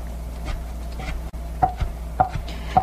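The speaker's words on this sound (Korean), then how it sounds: "채썬 거는 다시 모아서 다지겠습니다" Shredded meat for Korean meat patties (yukwonjeon) is minced with a knife on a board: a close, crisp series of irregular chopping strikes, a few sharp hits standing out over a soft background hum.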